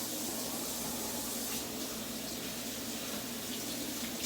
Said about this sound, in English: So I'm just gonna give my hands here a quick little wash.